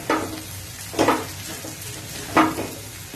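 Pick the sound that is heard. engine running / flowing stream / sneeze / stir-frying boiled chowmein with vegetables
stir-frying boiled chowmein with vegetables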